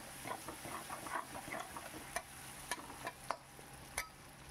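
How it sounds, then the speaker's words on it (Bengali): Thinly sliced onions fry in a pan, a soft sizzle at first giving way to scattered clicks and scrapes of stirring, close and fairly quiet, with no talking. "দেখুন ভালো করে বেশ পেঁয়াজটাকে আমি ভেজে নিচ্ছি।"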